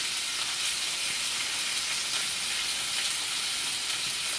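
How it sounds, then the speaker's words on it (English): Pasta going into a pot of boiling water on a home stovetop, giving a steady, close bubbling and sizzling hiss that holds evenly throughout with no talking. "Pour the pasta in."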